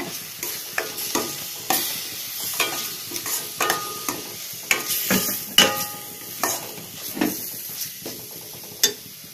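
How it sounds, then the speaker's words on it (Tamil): Coriander powder and turmeric hiss and sizzle in a hot pan for a crab pepper masala while a utensil scrapes and stirs in a steady, repeated rhythm, close up, with no talking. "இதே நல்லா கலந்து விடுங்க."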